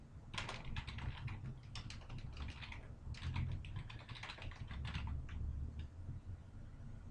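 Rapid computer keyboard typing in bursts of clustered keystrokes, close and fairly clear over a steady low background hum, with no talking.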